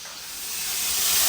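Water runs steadily while fish is washed at home, a close, continuous hiss that swells slightly louder over its short span, with no voices.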